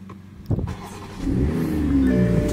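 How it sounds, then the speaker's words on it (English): A 2021 Toyota Supra's engine barks into a rev, then holds a steady, loud, rumbling exhaust note that builds and stays strong to the end. "That ain't no Corvette exhaust note."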